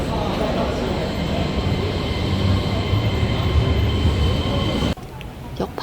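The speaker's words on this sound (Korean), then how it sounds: "지하철을 타고 두 정거장만 가면" A subway train in Fukuoka heading toward Nakasu-Kawabata station, heard as a loud, sustained rumble and whine of the moving carriage that drops away abruptly near the end, leaving quieter ambience.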